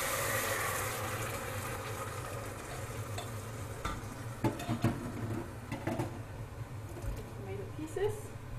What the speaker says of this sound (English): Okay, now I'm going to put in the tomato.